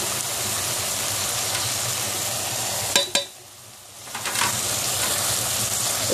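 A mixed vegetable curry with kasuri methi being stirred in a pan, a steady sizzling hiss broken by a couple of sharp spoon knocks and a brief drop in the frying noise, close by.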